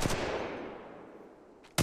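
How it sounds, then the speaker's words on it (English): R-301 rifle fire in Apex Legends Mobile: a sharp close burst of shots rings out and fades into a long echoing tail, then another loud burst cuts in right at the end. "try the R301 and shoot him down"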